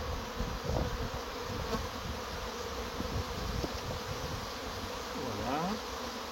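Honeybees from a very strong colony being transferred out of a deteriorated wooden hive buzz in a dense, continuous swarm close by, with individual bees passing near and away.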